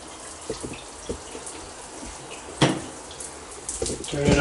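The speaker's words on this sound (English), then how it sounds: "So it's working, the shower's running." A shower runs from a repaired Delta 1700 Monitor Series faucet, a steady spray hiss with a few clunks and knocks, one louder thump midway, and no talk.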